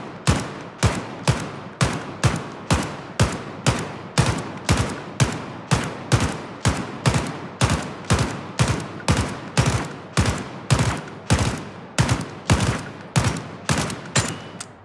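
Steady volleys of virtual gunfire ring out on a VR shooting range in the game Zero Caliber, with roughly two loud, sharp shots per second continuing evenly and close throughout, and no voices.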